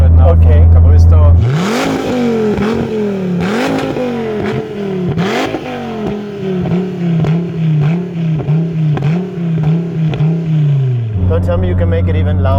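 The 8.4-liter naturally aspirated V10 of a Dodge Viper ACR with a Capristo aftermarket exhaust revs hard from inside the car, climbing and dropping through gear changes with a loud, rasping exhaust note.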